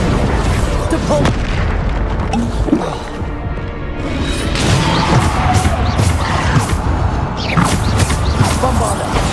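Bombarda spell explosions in the video game Hogwarts Legacy, loud booming blasts in a steady run across the whole stretch, layered with crashing debris and dense game-battle noise.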